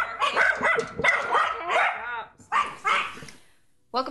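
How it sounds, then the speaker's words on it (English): Several dogs bark repeatedly and close up, loud overlapping yaps and woofs, with people talking in between. "Sorry for all the barking."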